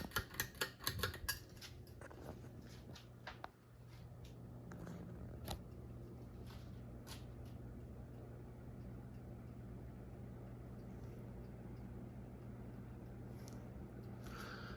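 NuTone 42-inch Hug-The-Ceiling ceiling fan running on high, a steady low whirring drone heard after a few sharp clicks and taps at the start, continuing evenly to the end.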